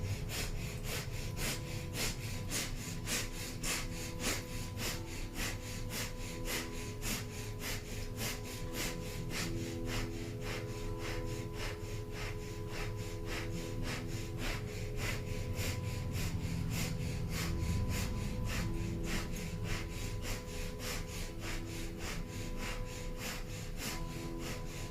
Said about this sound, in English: Powerful breath of fire, powerfully pumping the navel.